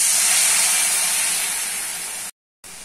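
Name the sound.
water added to frying spices, sizzling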